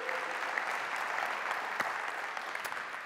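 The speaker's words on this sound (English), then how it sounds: "yeah, you can applaud" A crowd claps steadily in a sustained round of applause, fairly soft and distant, with no voices over it.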